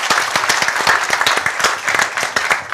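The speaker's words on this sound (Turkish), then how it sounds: "Onu bir alkışlayalım Üzeyir Bey'i." A Turkish television studio audience claps for a guest on a folk music show, a dense, loud burst of applause with many sharp hand claps running steadily throughout.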